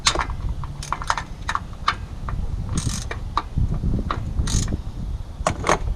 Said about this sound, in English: Now it's time to remove the transmission pan bolts.